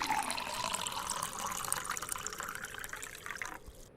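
Tamarind extract is poured into a pan of vanjaram fish curry as a steady, close liquid stream with light splashing for a few seconds before it abruptly stops.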